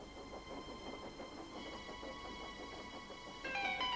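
A toy steam tank engine train chugs along at night with a steady, rhythmic clatter, and sustained musical tones join near the end.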